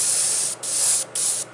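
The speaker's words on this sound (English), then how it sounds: "and then spray them again" An airbrush sprays paint in three close, steady hissing bursts separated by two brief pauses.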